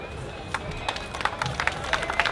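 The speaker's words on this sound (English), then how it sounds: "one more time, give our brother a round of applause" A crowd at an outdoor march applauds a speaker, with scattered hand claps that build into a brief, fairly close burst of clapping.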